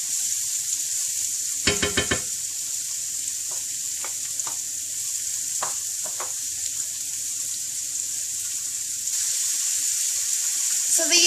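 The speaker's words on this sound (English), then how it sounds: "So the onion and the peppers and the garlic have been cooking for about 6 minutes" Onions, peppers and garlic sauté in a pan with a steady close sizzle, broken by a few sharp clatters of a utensil and some brief watery sounds.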